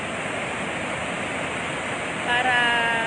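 Water pours out of the Magat Dam gates in a constant, loud, close rushing roar, and a voice is heard briefly near the end over the torrent.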